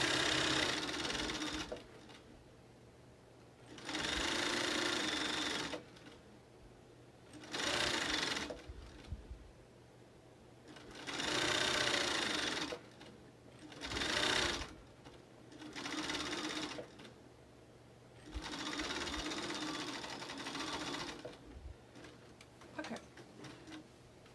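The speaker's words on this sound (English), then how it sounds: "So I'm sewing a 1/2 inch seam allowance." Sewing machine stitching a half-inch seam on a fabric face mask, running in several separate bursts of steady mechanical whirring with short pauses between, close and clear with no voices.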